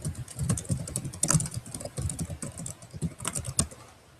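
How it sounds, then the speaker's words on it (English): Rapid, irregular typing on a computer keyboard during a live show test run, clicky keystrokes fairly close and steady throughout with no voice over them. "Sorry, I'm typing."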